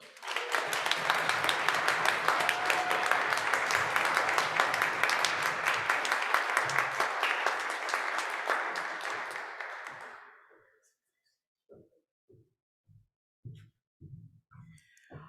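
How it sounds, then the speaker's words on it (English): A large crowd at a Pride event gives a big round of applause for an MLA, dense and loud for about ten seconds before it stops abruptly, followed by a few scattered claps and brief noises. "Give a big round of applause to MLA Uzoma."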